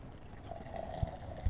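A brief, soft stream of a pisco and vermouth cocktail poured between tins, splashing faint and close, with a couple of dull knocks.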